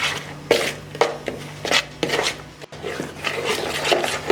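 Spice masala for fish fry being mixed by hand in a bowl, rhythmic rasping rubs and scrapes repeating about twice per second, close and fairly loud with no talking.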